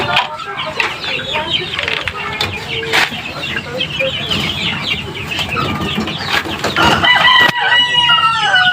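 Chicks and chickens in a backyard coop, some sick with swollen faces, fill the air with constant clucking and cheeping, a rooster crowing and wings flapping nearby, and a voice talking faintly underneath.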